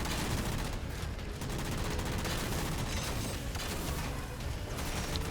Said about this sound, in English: You've seen how fast those concussion rifles are flying?